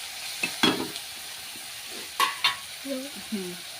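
Masala spices roasting in a pan for masoor dal, with close, scattered scraping stirs and clinks of a spoon over a faint sizzle, in short irregular bursts.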